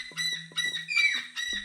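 A lyrebird mimicking a cockatoo, giving a string of harsh, raspy squawks in quick succession, fairly loud and clear against a quiet background.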